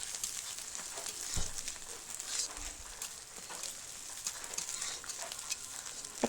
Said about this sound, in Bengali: আদা রসুনটা দিয়ে দিলাম, আর একটু ভেজে নেব